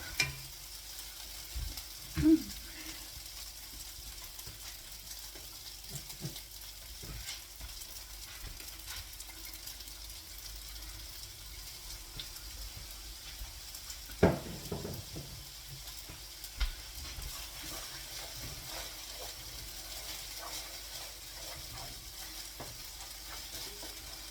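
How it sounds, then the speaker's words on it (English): Quiet, steady sizzling of breakfast food with soy sauce frying in a pan, with a few soft clinks and stirring knocks scattered throughout. "So while this is frying, looks so yum."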